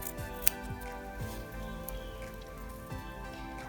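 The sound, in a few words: scissors cutting out fabric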